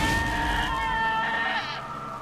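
A sheep in the video game Albert & Otto lets out a long, wavering bleat, loud and close, trailing off near the end with nothing else heard.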